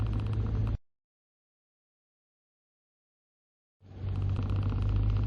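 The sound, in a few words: 2017 SsangYong Rexton W 2.2 diesel driving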